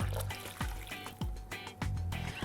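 Coconut milk poured into a cooking pot of squash and water for a vegan Jamaican-style dish; close, repeated liquid glugs and soft splashes follow one another for a couple of seconds.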